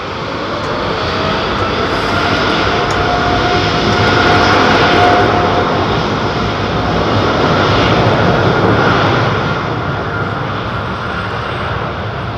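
An Airbus A330neo jet departing London Heathrow Airport produces a loud, continuous broadband engine roar that swells gently and stays steady for the whole stretch, with no talking over it.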